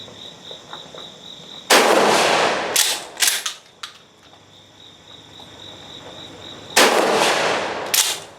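Loud, close gunshots from a repaired Gforce GF12P shotgun, several blasts fired in quick bursts with a pause between, ringing out over a steady chirping of crickets outdoors.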